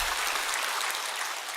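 A church congregation at a Sunday worship service claps in a steady, dense burst of applause filling the hall, even and continuous with no talking over it.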